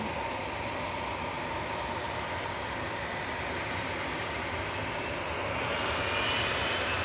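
An airliner departs Manchester Airport for Palma, its jet engines producing a continuous dense roar with a faint high whine that slowly strengthens over several seconds, with no voices.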